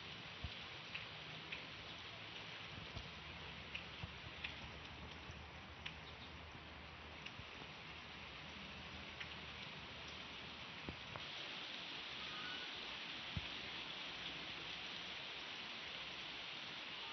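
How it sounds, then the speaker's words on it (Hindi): Steady rain falls outside, a dense even hiss with scattered close drips and ticks running throughout, with no voices. "सुबह से बारिश लगी हुई है, तो मैंने सोचा आप सबको बारिश का व्यू करवा दूँ"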